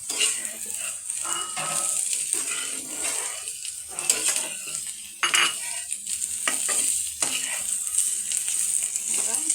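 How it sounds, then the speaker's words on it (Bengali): Bitter gourd and potato fry in a pan, a soft steady sizzle under repeated scraping and clattering strokes as the mix is stirred up close. "আমার করলা ভাজি হয়ে গেছে একটু নেড়ে চেড়ে নামিয়ে ফেলবো"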